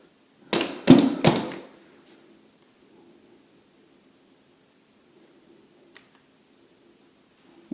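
A Milwaukee 2742 cordless 18-volt 16-gauge trim nailer fires three nails into hardwood in quick succession, sharp close bangs followed by quiet motor hum, with a faint tap later.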